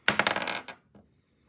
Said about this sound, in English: I've rolled a straight up 1 and 2 from those dice.